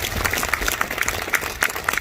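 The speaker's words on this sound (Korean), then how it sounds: "여러분, 다시 한번 두 노래에 큰 박수를 보내주시면 대단히 고맙겠습니다." An audience at a commemorative stage event breaks into brief, dense, even applause after two songs, with scattered sharper claps standing out.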